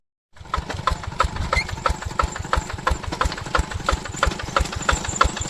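Two-wheel hand tractor plowing a wet rice paddy, its engine chugging loudly and steadily with a rapid, knocking pulse close by.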